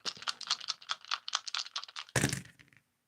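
Dice rattle and clatter quickly in a cup or hand for about two seconds, then land with a sharper burst and settle into silence. The sound is close and moderately loud, with no talking.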